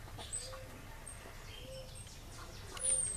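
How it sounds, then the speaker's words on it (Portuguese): A rufous-bellied thrush sings in the rain-soaked Brazilian Cerrado, its soft whistled phrases coming from a moderate distance over a quiet outdoor background. "Pegar mais um canto de sabiá para poder encerrar a filmagem aqui."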